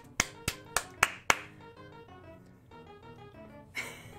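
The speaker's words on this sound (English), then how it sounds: "Clap, clap, clap." Five crisp hand claps in a steady, evenly spaced run, close and distinct, followed by a soft sustained tonal hum and a final faint rustle, with no talking.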